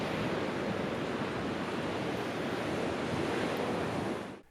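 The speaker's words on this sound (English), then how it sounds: "the Micromuff definitely reduces noise from strong wind" Strong wind buffets a compact camera's built-in microphone fitted with a Micromuff wind cover, a loud, steady broadband rush that holds for about four seconds and then drops away.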